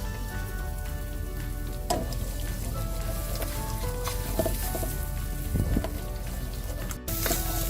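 Eggs with a dash of salt scrambling in a hot pan over raised heat: a constant crackling sizzle with scattered pops and the scrape of stirring, close up and unbroken by talk.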